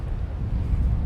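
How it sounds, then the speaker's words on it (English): Steady wind buffets the microphone on an evening walk in Tokyo, a low rumbling roar with gusty swells and no voices. "It's super windy right now."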